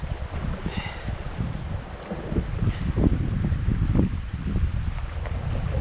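Wind gusts at sea off St Davids Head in west Wales buffet a microphone on a small fishing boat, a steady rough rushing roar that swells louder partway through.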